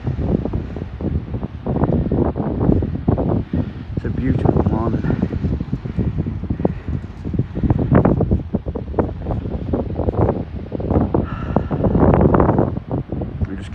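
Strong wind from the tail of a hurricane sweeps across a tent campsite on the Isle of Mull. A constant rushing roar batters the microphone in gusts, with a voice talking underneath.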